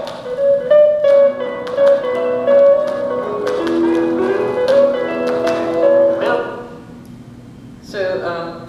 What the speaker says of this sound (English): That's the original record played with a standard needle, and that's just transferred right there.